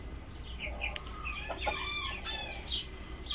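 Brahma and silver chickens cluck and chatter nearby in short, scattered calls over a low background hum, with no talking.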